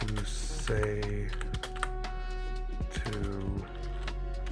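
Steady typing on a computer keyboard, close and fairly loud, with quick irregular key clicks over a constant background hum.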